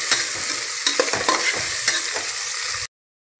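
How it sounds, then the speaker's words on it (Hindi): Chopped onions sizzle steadily in a hot pan while being stirred, with scraping clicks over the continuous frying hiss, close and alone before stopping abruptly. "तो यहाँ अब आपको प्याज को गोल्डन कलर आने तक फ्राई करना है।"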